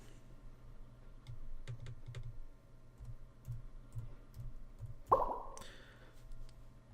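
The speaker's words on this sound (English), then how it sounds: "Now if I was to type in NEHELP, short for any help" Typing on a computer keyboard: a run of close, light key clicks in uneven bursts, with one sharper, louder knock near the end.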